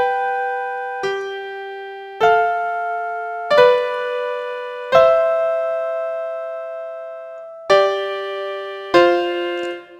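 Piano chords played in the upper register with both hands in the treble clef, about seven distinct strikes each ringing and decaying before the next, a clean solo performance.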